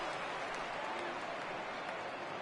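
A stadium crowd of over 39,000 cheers and applauds at a World Series baseball game in MLB 18 The Show, a faint, even wash of clapping and roar lasting a couple of seconds.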